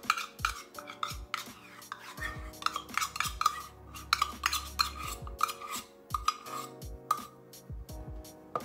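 A spoon or whisk stirring flour into biscuit dough in a bowl, giving a busy run of repeated scraping and knocking strokes against the bowl with an uneven rhythm, close and fairly clear.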